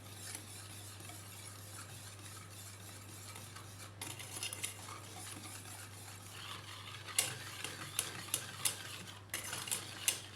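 A sweet sauce is whisked by hand until smooth in a quiet kitchen over a low steady hum, with soft stirring growing into faster, brighter metallic clinks against the bowl toward the end.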